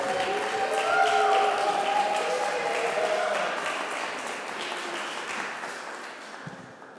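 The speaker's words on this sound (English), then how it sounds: "So please give an applause." An audience at a comics lecture applauds, a broad wash of clapping with some voices over it early, gradually thinning and fading toward the end.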